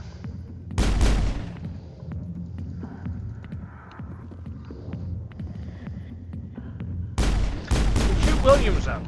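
Bursts of gunfire in the sci-fi shooter game Mass Effect, two loud volleys of rapid shots at the start and end, with a low throbbing hum and scattered game sounds between them.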